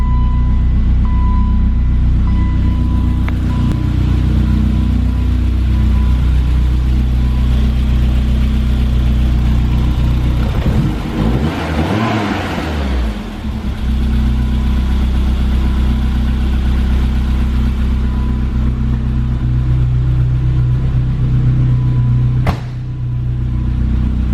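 A BMW E30 M3 engine idles steadily after a cold start, a loud, continuous mid-pitched drone with a brief swell of revving partway through and a faint click near the end.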